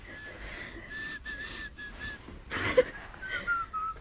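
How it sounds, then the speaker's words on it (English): A person whistles through the nose, giving a thin, wavering high tone that holds for several stretches, close and fairly faint, with a louder breathy burst near the end. "I can whistle through my nose."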